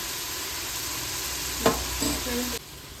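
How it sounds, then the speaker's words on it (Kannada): Tomato masala for chicken biryani fries in a pan, a steady close sizzle with a few sharp stirring scrapes near the end, no voices. "ಇದು ಎಲ್ಲ ಟೊಮೊಟೊ ಸಾಫ್ಟ್ ಆಗಬೇಕು, ಅಲ್ಲಿವರೆಗೂ ಚೆನ್ನಾಗಿ ಹುರ್ಕೋಬೇಕು."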